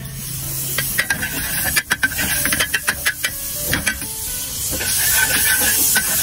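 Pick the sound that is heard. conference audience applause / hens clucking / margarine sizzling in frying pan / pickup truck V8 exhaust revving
margarine sizzling in frying pan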